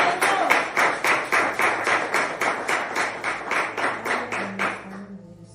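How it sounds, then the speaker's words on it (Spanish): A church congregation claps in steady unison praise, about a dozen loud, evenly spaced claps that fade out at the end, with a faint low hum underneath. "Dele palmas al Señor."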